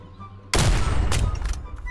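A sharp, loud sniper shot in the battle royale video game Rift Royale, a sudden blast with a ringing tail and a second crack shortly after, close and dominant.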